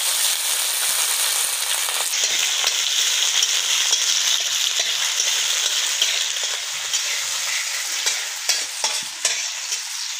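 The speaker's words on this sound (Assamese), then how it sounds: "তেলত এতিয়া পিঁয়াজ দি দিছোঁ।" Onions fry in hot oil in a wok, a loud continuous hissing sizzle up close with scattered crackles and spits that grow more uneven toward the end.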